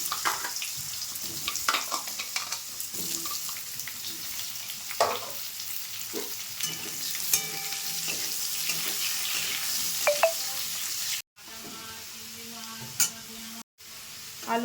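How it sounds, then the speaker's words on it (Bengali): Potatoes frying in oil left over from frying fish, a steady close sizzle with scattered stirring knocks and utensil clinks, briefly cut out near the end. "এই তেলে একটু আলুটা ভেজে নেব।"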